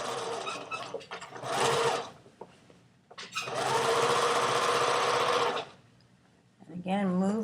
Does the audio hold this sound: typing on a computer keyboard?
no